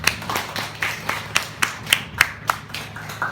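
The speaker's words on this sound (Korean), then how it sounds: "따뜻한 박수로 환영해 주시기 바랍니다." An audience at a Korean lecture claps to welcome a guest speaker to the stage, a fairly sparse run of about a dozen distinct claps at an even pace, moderately loud and close.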